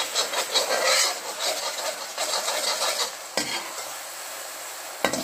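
Ginger garlic paste frying in a pan for a chicken curry, a loud steady sizzle with a spoon scraping and stirring through it, close up and with no talking, followed by a couple of sharp utensil knocks.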